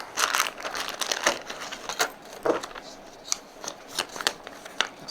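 A small plastic package holding a KATO 11-212 interior light kit for an N scale train is opened close by, with crinkling, rustling and sharp snipping-like clicks in an irregular, busy stream and no speech.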